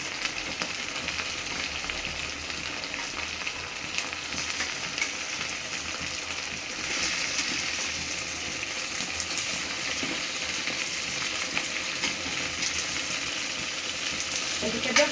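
Chicken sizzles and fries steadily in a pan as it is stirred, a continuous hissing wash with occasional scraping clinks, brief voices in the background.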